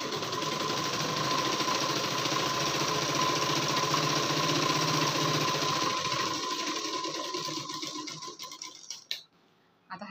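A sewing machine stitches a blouse in a steady, loud, continuous whir for about eight seconds, then slows, stutters to a stop and falls quiet, with a faint handling click at the end.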